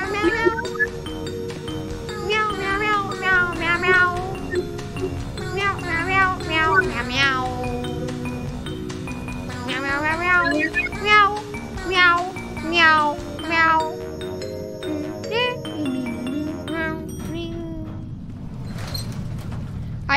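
A voice in a game of Doors imitates cat meows, a run of rising and falling mewing calls that repeat loud and close over roughly twenty seconds, mixed with a little background talk.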